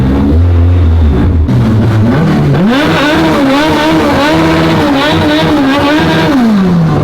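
A 450 whp Honda race car does a burnout without using the clutch, its engine screaming loud and close at high revs, holding a steady wailing pitch for several seconds before it drops off.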